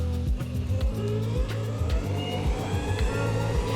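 A Backfire Zealot electric skateboard in turbo mode gives a rising and falling motor whine with rhythmic rolling thumps from the wheels at speed, steady and close with no talk.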